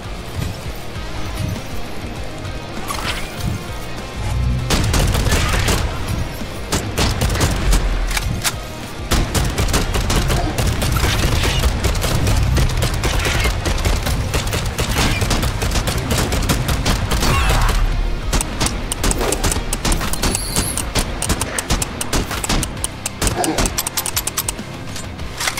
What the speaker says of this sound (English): Explosion, rocket launchers.